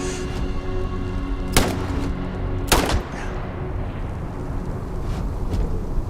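Gunfire in the video game Starfield, aimed at a creature: two sharp, loud shots about a second apart ring out over a constant, busy game background.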